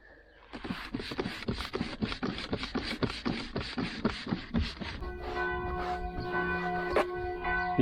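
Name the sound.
church bells ringing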